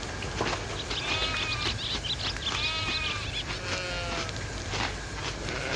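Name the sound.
sheep bleating, from a video game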